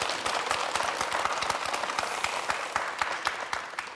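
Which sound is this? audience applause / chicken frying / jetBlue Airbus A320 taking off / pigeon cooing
audience applause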